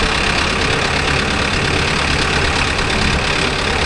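A Mahindra Arjun Novo 605 tractor engine runs loud and steady under throttle close by during road training, a continuous heavy rumble that holds without a break and with no talk over it.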